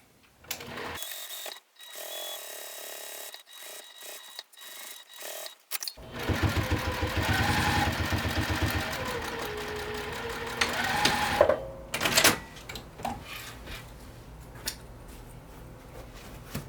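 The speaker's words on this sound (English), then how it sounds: "Stitch all the way around with a 1/2 inch seam allowance again." Sewing machine stitching around a satchel's lining panel at a half-inch seam allowance: a few short stop-start bursts, then a long steady mechanical whirr of needle and motor, breaking into shorter runs at the end, with no talk.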